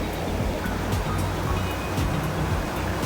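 Wind-driven ocean waves surge and wash against a rugged rocky shoreline in Hawaii during pouring rain, a constant close roar of surf with low rumbling swells and no talking.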